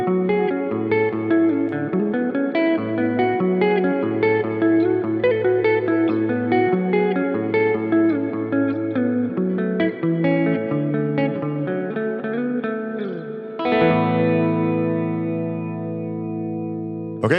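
An electric guitar through the Neural DSP Pliny amp simulator plugin plays a busy riff with chords and single notes in a processed, effected tone, ending on a ringing sustained chord.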